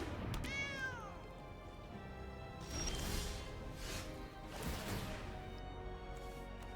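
A cat meows once, with a rising-then-falling pitch, as the Scythe Cat Cub card comes into play in a Magic the Gathering video game, followed by soft whooshing card and game effects.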